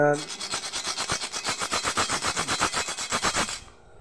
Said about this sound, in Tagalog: Yan po ito, lagaring bakal to.